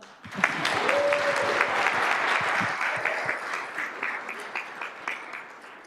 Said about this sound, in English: Let's let everybody clap for you first.